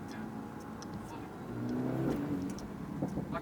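A 750bhp Urban Mercedes G63 AMG accelerating, its engine rising in a steady mid-pitched drone heard from inside the cabin, moderately loud and swelling toward the middle, with voices talking over it.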